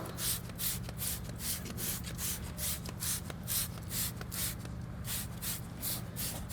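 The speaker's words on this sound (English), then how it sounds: "Wheel cleaner onto the barrel and the front of the wheel." Wheel cleaner is sprayed from a trigger bottle onto the barrel and face of a car wheel on a ceramic-coated car, a steady run of quick, even hissing bursts close to the microphone with no talking.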